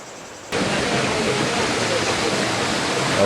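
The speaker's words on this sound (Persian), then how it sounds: "آبشار زیبای شاهاندشت" The Shahandasht waterfall in Iran roars as a steady broadband rush of falling water, starting abruptly and staying loud and continuous.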